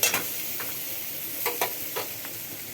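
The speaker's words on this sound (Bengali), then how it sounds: "কাশ্মীরি লঙ্কার গুঁড়ো পেঁয়াজ বাটা আর পেঁয়াজ কুচিটা খুব ভালো করে কষে নিতে হবে" Onion paste and chopped onion with Kashmiri chilli powder fry in a pan for a yogurt chicken dish, giving a soft, steady sizzle broken by a few scraping stirs of a spoon at close range.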